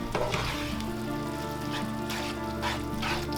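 A spoon stirs grated Parmesan into a stuffed shells filling, giving a soft, continuous moist scraping and squelching close by over a steady kitchen background, with no talk.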